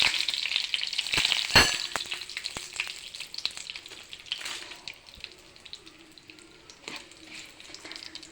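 Curry leaves and two dried red chilies hit hot oil for a sliced onion pickle, giving a bright crackling sizzle with a sharp burst early on that settles into steady, softer frying, no talk.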